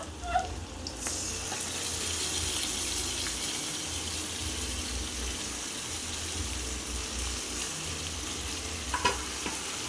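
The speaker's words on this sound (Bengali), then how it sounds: "পেঁয়াজটা একটু ভাজা হয়ে গেছে, আমি এবার মাংসটা দিয়ে দেবো" Chicken meat goes into a pan of lightly fried onions with spice paste for chicken kosha, giving a loud continuous sizzle with scraping stirs and no talking.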